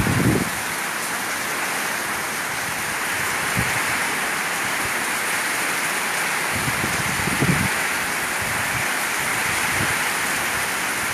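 A steady, dense downpour from a thunderstorm in Isan, Thailand, hisses continuously, with occasional low thumps of drops striking nearby surfaces and no voices.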